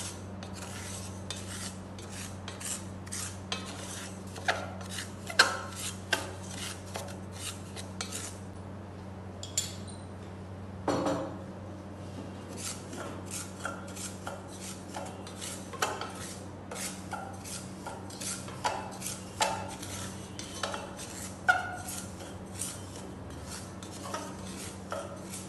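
Semolina (rava) roasting in a pan while being stirred, with rapid, continuous scraping and light metallic clinks of a spoon against the pan over a faint steady hum, close by and without voices.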